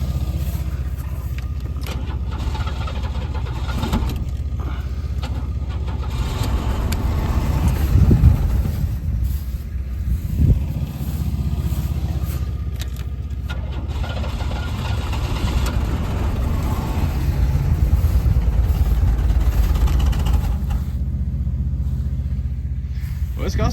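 A 1993 Oldsmobile Cutlass Ciera engine, smoking a bit, rumbles and idles roughly with some knocking, a few louder revs breaking through, while people talk over it.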